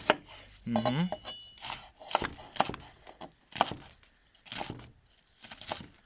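A very sharp knife chops an onion on a cutting board in a quick run of about eight crisp, distinct chops at a steady rhythm, close up and moderately loud.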